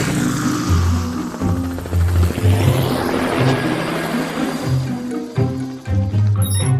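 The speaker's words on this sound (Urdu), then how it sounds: "ارے یہ تو ہیلی کاپٹر کی آواز ہے۔" A cartoon helicopter sound effect as the aircraft flies in and sets down: a steady, loud rotor drone with a rhythmic low thumping that continues through the whole stretch.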